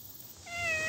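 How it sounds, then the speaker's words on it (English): Big O the cat meows once, a short rising close cry that follows a moment of soft background rustle and hum. "Big O the video cat."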